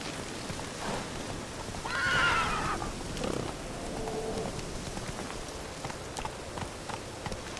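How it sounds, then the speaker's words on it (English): Roach, a horse in The Witcher 3: Wild Hunt, gives a loud whinnying neigh partway through, over soft rain and hoof clip-clops, with no one speaking. "Whoa there, Roach"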